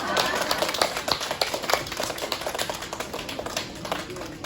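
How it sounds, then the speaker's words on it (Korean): An audience applauds during a poetry lecture at a Busan bookstore, a dense run of sharp, close hand claps that holds steady for several seconds before thinning slightly toward the end. "박수는 치면 혈액순환이 좋습니다."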